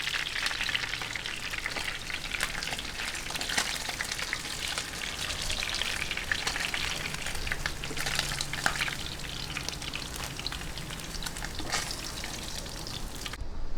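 Milkfish (bangus) fries in a pan with a dense, continuous crackle and sizzle of hot oil, close and even throughout with faint stirring and no voices.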